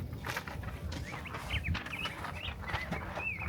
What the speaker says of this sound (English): I want to know what kind of bird that is.